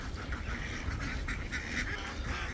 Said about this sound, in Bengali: আপনারা দেখতে পাচ্ছেন আমাদের সমস্ত হাঁস এখন পুকুরে নামতেছে।